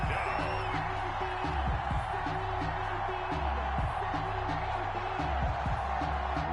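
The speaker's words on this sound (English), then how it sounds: "the crowd getting into it as we come up on a big 3rd down" A football stadium crowd roars in a steady, dense wash of cheering and whoops ahead of a big third down, with deep rhythmic thumps pulsing underneath throughout.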